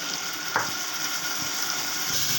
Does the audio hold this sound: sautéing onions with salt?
yes